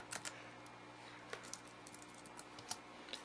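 Quiet clicks of a computer keyboard while code is entered for an Android app, in irregular bursts of keystrokes with short pauses and a few sharper taps, close up against a faint steady background hum.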